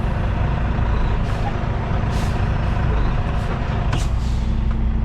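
A semi truck's diesel engine rumbles loud and close as it pulls forward from under the fifth wheel of a trailer, with a few sharp air hisses and squeaks breaking over the steady idle roar.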